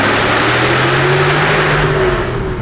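A Jaguar F-Type R's exhaust roars loud and close in one sustained, steady rumble with a low droning engine note, and no one talks over it.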